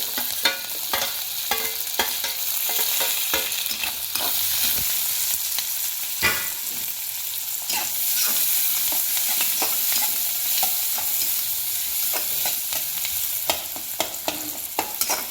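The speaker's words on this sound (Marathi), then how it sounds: "हिरवी मिरची छोटी छोटी कापून घेतले ती घालून घेऊया आणि त्याला जरा परतवून घेऊया" Chopped green chillies and onion sauté in a hot pan, a steady bright sizzle broken by frequent scraping stirs and sharp clicks throughout, with no talking.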